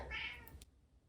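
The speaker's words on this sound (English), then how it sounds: "That was my cat." A house cat gives a single short meow indoors, faint and fairly close, that fades quickly into near silence.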